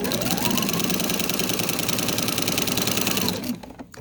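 A sewing machine fitted with a walking foot runs a rag quilt seam: a loud, close, steady motorized whir with rapid needle knocking that carries on for about three seconds, then stops abruptly, leaving brief handling noise.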